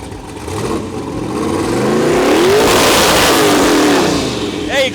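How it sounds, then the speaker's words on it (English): Truck engine revving hard in repeated pulses against the rev limiter, loud and close, the pitch climbing and dropping in waves with a short final burst. "There you go, bouncing off the rev limiter"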